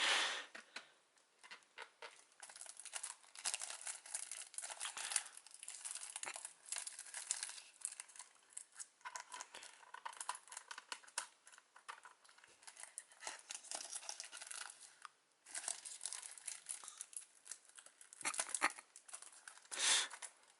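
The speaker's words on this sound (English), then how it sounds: "This plastic's gonna be a mess." Plastic shrink-wrap being crinkled and torn off a special album: close, continuous crackling and crumpling with sharp rips, steady through most of the stretch and dipping briefly before picking up again.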